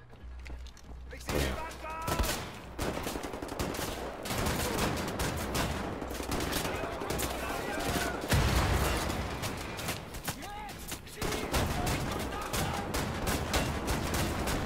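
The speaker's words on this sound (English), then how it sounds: "That's an automatic shotgun." An automatic shotgun firing in the video game Wolfenstein: The New Order, dense continuous blasts and booms filling the whole stretch, loud and sustained with little pause, while a person talks over the action.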